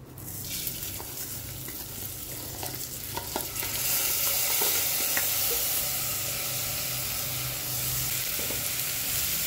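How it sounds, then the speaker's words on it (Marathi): Rice sautéed in a pan with asafoetida and turmeric for Vidarbha-style gola bhaat gives a steady, close sizzle with soft scraping stirs, growing a little louder partway through, and no talking. "तांदूळ थोडासा परतून घ्यायचा आहे, त्याचा ओलसरपणा जाईपर्यंत."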